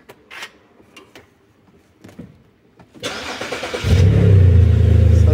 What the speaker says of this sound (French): Ça démarre.